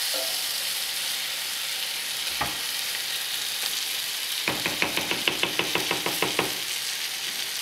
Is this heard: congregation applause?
no